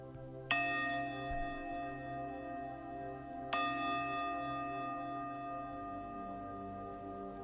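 A meditation bell is struck twice, each clear ringing tone with long sustained harmonics that slowly decay, signalling the start of a guided mindfulness practice in a quiet room.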